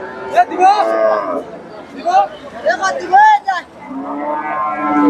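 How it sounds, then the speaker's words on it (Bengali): Crossbred dairy cows moo repeatedly in long, drawn-out calls, loud and close, with a crowd murmuring in the background at a cattle market. "এখানে একটা ক্রসের গাভি দেখতেছি"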